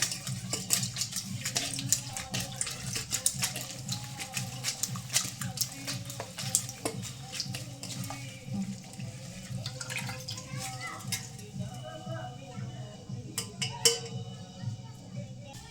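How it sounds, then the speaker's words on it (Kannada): Fenugreek leaves being washed in salted water under a running tap in a home kitchen, with steady splashing water and occasional drips heard beneath someone speaking throughout. "ಮೆಂತೆ ಸ್ವಲ್ಪ ಉಪ್ಪು ಹಾಕಿ ತೊಳೆಯೋನು, ಸ್ವಚ್ಛ ಆಗುತ್ತಾ"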